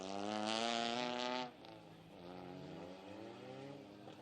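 Four-cylinder ministock race cars on a dirt track roar past, a loud, buzzing engine note that drops sharply after a second and a half and is followed by quieter, distant engines rising and falling in pitch.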